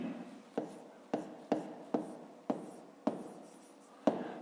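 A pen scratches on paper while a fifth-grade maths exercise is written out, alone and quiet. Short strokes come in bursts of about half a second, each with a sharp tap as the pen lands or lifts.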